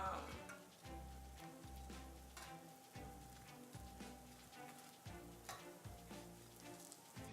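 Bread slices frying in olive oil sizzle and crackle steadily, with soft rhythmic scraping or stirring bumps and a quiet voice talking over the bubbling.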